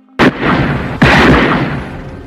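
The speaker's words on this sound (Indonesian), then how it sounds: "Karen mengambil pistol dari detektif Norris, menembak beberapa kali" Two loud, close gunshots from a pistol in a Chucky horror film, the first a sharp crack and the second about a second later with a heavier boom and a lingering echoing tail.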